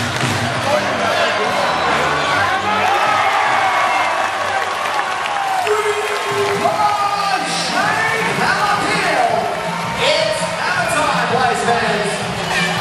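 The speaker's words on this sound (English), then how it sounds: "the crowd really going crazy when Shane got the ball this time" A basketball arena crowd roars and cheers continuously, loud and dense, with applause, whoops and ball bounces beneath steady commentary talk.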